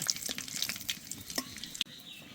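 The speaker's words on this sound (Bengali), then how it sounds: "এবার একটু ভালো করে ভেজে নেব।" Whole spices frying in hot oil (cracked cardamom, bay leaf, dried red chilli and cumin seeds), a close, crackly sizzle with quick stirring scrapes and a few sharp pops, briefly cutting out near the end, no talking.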